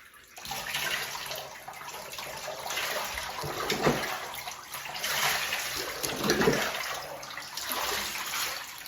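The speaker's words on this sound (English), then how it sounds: "Gently pouring the water." Water pours gently from a tub over a large dog in a bathtub, a steady splashing and trickling that swells and eases in a few waves, with no talking.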